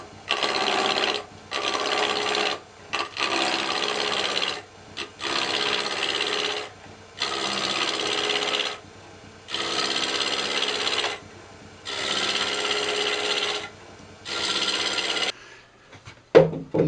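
A roughing gouge trues a spinning wooden blank on a lathe for a wood flashlight, making seven or eight steady rasping cuts of one to two seconds each, split by short pauses, close and clear with no talk.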